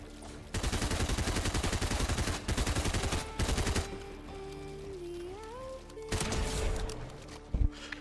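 Video game gunfire from a Solo vs Squad battle match, with rapid automatic bursts in long sustained strings, broken by short pauses, loud and close and heard alone.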